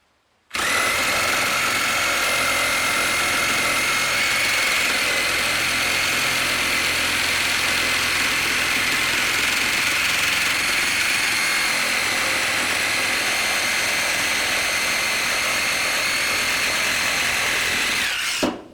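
A DEWALT 20V MAX cordless reciprocating saw (DCS380B) cuts through treated 4x4 lumber, a loud, continuous buzzing roar of the motor and rapidly chattering blade sustained for about seventeen seconds before stopping abruptly, with no talking.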